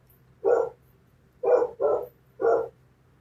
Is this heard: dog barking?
yes